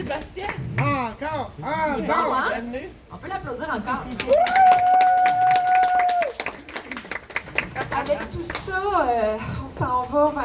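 Audience clapping for a singer at an evening concert, a dense patter of hands heard behind someone talking over it. A held sung or shouted note rises briefly in the middle, and the clapping carries on under more talk.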